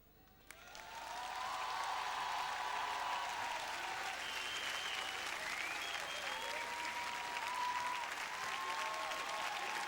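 A festival audience at a Solidays tribute to Madiba bursts into loud, sustained clapping that rises quickly and holds steady, with scattered cheers and voices mixed in.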